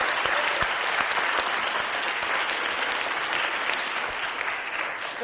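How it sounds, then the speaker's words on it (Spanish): A large audience claps loudly and steadily at a theatre performance, a dense continuous roar of hands lasting the whole stretch with no talk over it. "Vale, muy bien, un fuerte aplauso."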